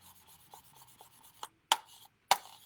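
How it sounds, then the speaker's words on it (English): A track cleaner block rubbed along the tops of oxidized model train rails makes soft rhythmic scraping strokes, followed by a few sharp, louder taps or scuffs near the end. "when I take this bright block, or this track cleaner, and I rub the top of the rails"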